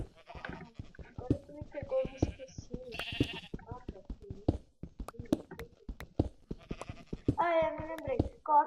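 Blocky Minecraft sheep let out several short, quavering baas, clearest near the end, amid clicky footstep and block sounds while a player chats over the game audio.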